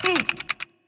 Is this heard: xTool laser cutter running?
no